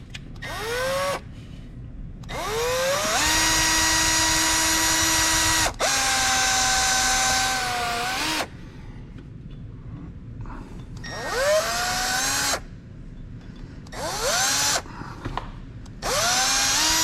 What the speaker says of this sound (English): drill with the left drill bit, and just like on a low speed, just drill it, and this bolt going out by itself